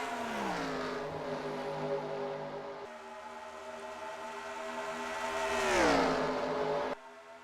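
A pack of stock race cars in a racing video game drones past together at Auto Club, sustained engine tones layered and rising and falling in pitch as they pass.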